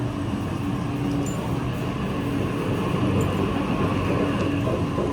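A North Shore Line train pulls out of a station platform with a steady, dense rumble and rolling rail noise that holds level throughout, with no voices.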